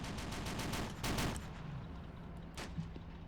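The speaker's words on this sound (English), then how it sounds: "50 caliber machine gun back here." Bursts of .50 caliber machine gun fire in a World War II desert combat video game, rapid repeated shots in a quick run, then scattered distant reports, moderately faint with no talking.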